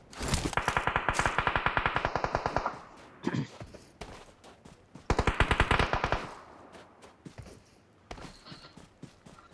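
Automatic rifle fire in PUBG Mobile: two long rapid bursts of evenly spaced shots, loud and close, followed by scattered single shots and shorter volleys, with a few quiet gaps between.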